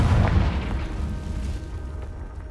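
A Confringo blasting spell goes off in Hogwarts Legacy: a single booming explosion with a heavy low thud that decays over a couple of seconds, alone without talk.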